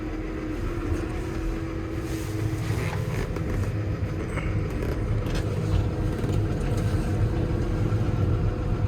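Fendt tractor engine driving through deep snow on a cold Canadian winter day, a steady low rumble heard from inside the cab, continuous and fairly loud throughout.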